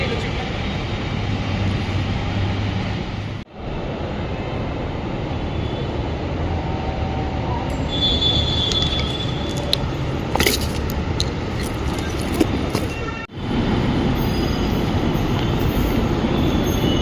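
A Namma Metro Yellow Line train passes close by with a steady, loud rumble, rising wheel squeal and brief high screeches, and two short dips as the sound cuts in and out.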